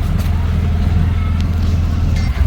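An auto rickshaw rolls along a busy road near a cricket stadium with a steady low engine rumble throughout, and faint background voices and traffic mixed in.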